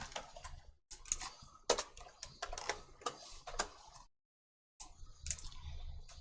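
Quick, uneven bursts of keystrokes on a computer keyboard as a button name is typed while building a smartphone app, with clicks in close clusters, one brief pause, then more typing.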